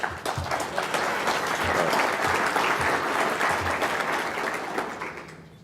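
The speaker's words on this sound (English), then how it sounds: "he really deserves a big round of applause and congratulations for that" Applause from an audience at a NATOA awards ceremony keynote, a steady dense wash of clapping that swells through the middle and tapers slightly toward the end, with no talking over it.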